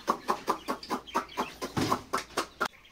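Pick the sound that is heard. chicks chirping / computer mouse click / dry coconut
chicks chirping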